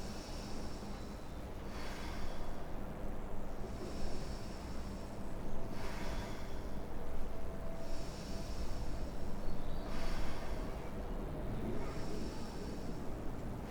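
Slow, deep breathing during a Sivananda yoga session, each long airy inhale and exhale rising and falling in a steady rhythm about every two seconds, close and soft with no talking.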